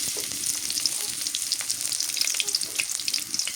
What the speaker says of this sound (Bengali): তেল দিয়ে দিই। পেঁয়াজ কুচি দিয়ে দিই